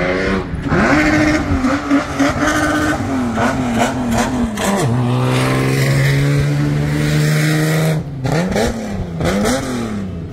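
Race cars rev hard at the Qatar racing club track, engines climbing and falling in pitch with sustained high-rpm holds, loud and close for the whole stretch with no talk.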